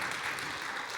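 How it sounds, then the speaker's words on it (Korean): A church congregation applauds during a Sunday worship service as adults are called forward to receive awards, giving a steady, dense patter of clapping that fills the whole second at moderate volume. "우리 김건 청년과 박혜원 집사님 나오실 때 마찬가지로 큰 박수 쳐주시기 바랍니다."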